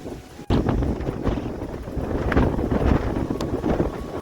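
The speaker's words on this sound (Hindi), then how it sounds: "ताबड़तोड़ हवा जो है ये चला थे।" Strong wind buffeting a microphone during light rain at an outdoor vegetable market, a loud continuous rushing roar that starts abruptly and holds steady throughout, with no voices.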